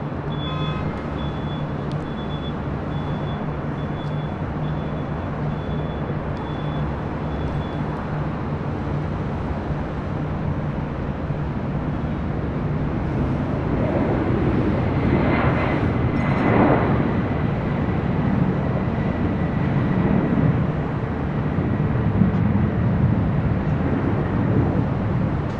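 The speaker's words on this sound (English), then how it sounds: "the Delta 767 now rolling down to 25 right" A Delta Boeing 767 starts its takeoff roll on runway 25 right at LAX, a steady, loud jet-engine roar that builds slightly over the long stretch, heard from a distance with no talking.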